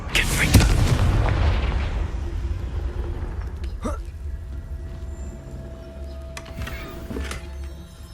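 Confringo blasting spell explosions in the Hogwarts Legacy video game: a loud booming blast that rumbles and decays over several seconds, followed by fainter sharp magical bursts, with a voice casting spells.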